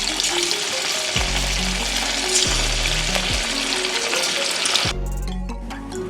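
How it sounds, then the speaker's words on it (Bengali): Potato french fries frying in hot oil, a dense continuous sizzle and crackle, loud and close, with low clunks of handling in the background. "প্রত্যেকটাকে আমি ওরকমভাবে ভেজে নেব।"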